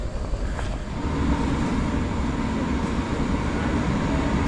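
A train rumbles steadily nearby with a low, continuous roar of wheels and machinery, growing slightly louder as it rolls into the station at Sion, Switzerland.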